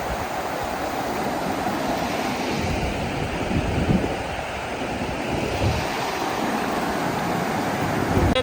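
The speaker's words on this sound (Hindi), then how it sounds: "अब पानी ज़्यादा तेज़ हो गया है क्योंकि दोपहर का टाइम हो गया है" A fast-flowing mountain stream rushes in a steady, loud, broadband roar close by, with wind buffeting the microphone throughout and no voices.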